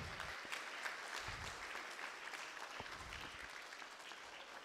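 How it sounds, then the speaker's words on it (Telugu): An audience at a children's special gathering applauds the winners, a sustained wash of many hands clapping steadily at a distance, fairly soft and even throughout. "సో వీళ్ళండి విన్నర్స్కి ఒకసారి గట్టిగా చప్పట్లు"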